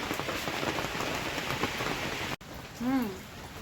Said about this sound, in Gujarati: જો વરસાદ પણ શરૂ થઈ ગયો છે।